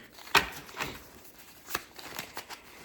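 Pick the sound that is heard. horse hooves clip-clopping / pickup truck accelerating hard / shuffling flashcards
shuffling flashcards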